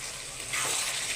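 Young jackfruit cooked with curd and salt sautéing in a pan with a faint, steady sizzle and watery frying hiss that rises slightly partway through.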